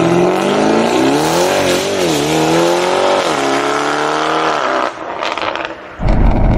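Novitec-tuned Lamborghini Urus with exhaust flaps open, engine revving hard through rising and falling pitch sweeps, loud and close, then dropping off before a final sharp burst.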